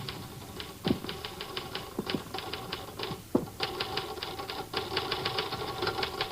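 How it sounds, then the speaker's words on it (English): A typewriter clacks steadily as a letter is typed, with rapid keystrokes and occasional heavier carriage thumps, in an old-time radio drama scene. "Mr. Thurston, That's an interesting letter you're typing."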